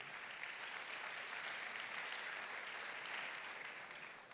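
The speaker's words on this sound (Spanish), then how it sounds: "Vamos a dar un fuerte aplauso a Dios por ellos." A church congregation claps in a strong, sustained round of applause, an even wash of many hands heard from some distance and quite faint, holding steady throughout and easing slightly at the end without talk.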